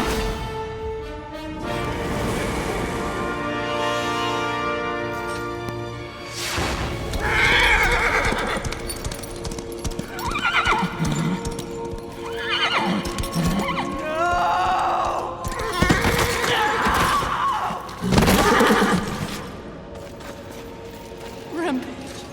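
The horse Rampage in the video game Darksiders 3 whinnies loudly several times, with clip-clop hoof sounds and game effects around the neighs and a voice speaking over parts of it.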